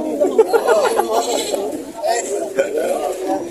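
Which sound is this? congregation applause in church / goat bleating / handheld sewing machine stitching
goat bleating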